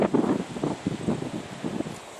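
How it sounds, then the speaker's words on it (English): Wind gusting outdoors around a parked 2006 Monte Carlo project car, a rough, buffeting rumble on the microphone that comes in uneven bursts throughout with no talk. "It's awful windy out here."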